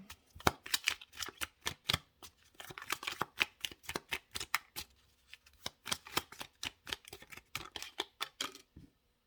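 Rapid bursts of tarot cards being shuffled, crisp riffling clicks in quick repeated runs with short pauses between, close and clear with no talking.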